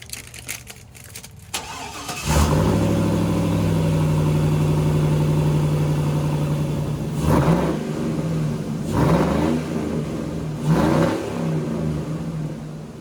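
A Chevy pickup with a freshly installed exhaust cranks and fires up, then settles into a steady, close idle broken by three short revs of the engine.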